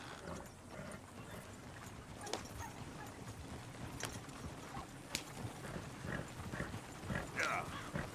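Horses trotting in the video game Red Dead Redemption 2, their hooves giving a continuous clip-clop over a busy, noisy game soundscape with occasional sharp clicks and knocks.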